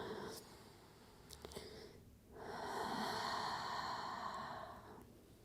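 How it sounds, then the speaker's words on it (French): Slow deep breaths during a pilates class, a long audible breath drawn in and then exhaled steadily after a short pause, close and fairly soft. "on prend 3 grandes respirations"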